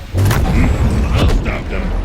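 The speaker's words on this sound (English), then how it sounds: "Changing mags." Weapon magazine change in the sci-fi shooter The First Descendant, a short run of mechanical clicks and creaking latches close up, set against a steady low rumble of game ambience.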